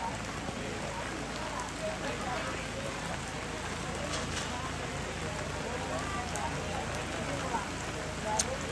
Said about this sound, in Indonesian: Saat ini masih hujan, masih deras hujan.